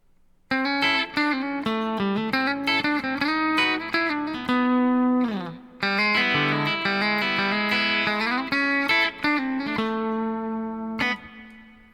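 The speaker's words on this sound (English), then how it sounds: "we're going to start with the clean tones in the bridge position." A 2020 Hadean EG-491 electric guitar plays on its clean tone through the bridge pickup, picking out a run of clear, ringing single notes and chords at close range, with one brief pause midway and a sustained final note.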